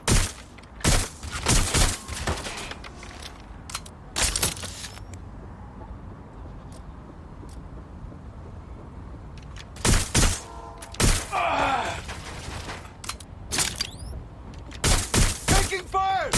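Bursts of gunfire in the video game Watch Dogs: Legion come in loud clustered volleys with quieter gaps between them, alongside thuds and other game sounds.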